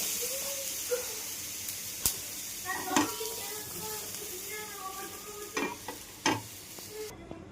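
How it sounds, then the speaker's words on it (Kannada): Ragi dosa batter sizzles softly on a hot griddle, a quiet steady hiss broken by a few sharp clinks and scraping touches, with no one talking. "ಈಗ ದೋಸೆ ಹಾಕೋಣ. ಈಗ ಹಂಚು ಚೆನ್ನಾಗಿ ಕಾದಿದೆ."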